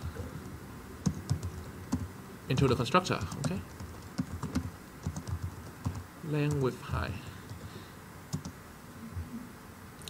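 Computer keyboard typing comes in quick clicking bursts under a man's intermittent speech during a coding session.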